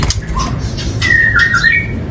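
A Madura shrike, Sumenep pentet, gives a loud nearby squawk followed by a harsh, buzzy whistled call lasting about a second, with no talking.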